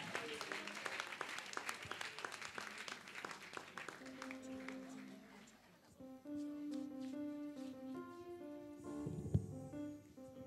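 Congregation applause and acclamations during a Saturday evening church vigil, a dense crowd of clapping that fills the first several seconds and then gives way to sustained musical tones.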